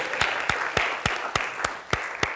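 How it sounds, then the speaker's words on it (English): A small group of people applauds Anita after an improvisation game, with sparse, distinct hand claps sounding at a steady, slightly uneven rhythm across a soft, continuous patter. "Can we give applause to Anita?"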